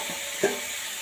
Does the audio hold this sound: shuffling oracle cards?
no